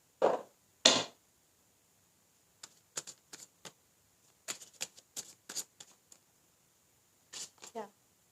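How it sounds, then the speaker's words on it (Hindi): Tarot cards drawn from a deck make sharp, dry flicks and snaps, first two louder ones, then short scattered clusters of quick card slides and taps, close and otherwise quiet. "कुछ कार्ड मैं यहाँ पे ये डेक से भी लूँगी"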